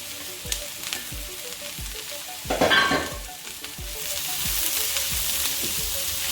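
Sliced onion and peppers sizzle in a pan as a utensil stirs them, with regular scraping clicks against the pan, a louder burst of frying in the middle and a steady hiss swelling toward the end.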